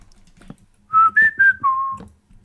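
A person whistles a four-note tune, the pitches stepping up, then down and ending on a longer held low note, clear and close in a quiet room.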